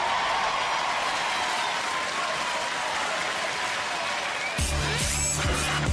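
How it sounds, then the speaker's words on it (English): Audience applause at a Robot Wars robot combat match, sustained clapping from a crowd that carries on steadily, with a brief burst of other noise near the end. "A big round of applause for both of our teams that competed here today."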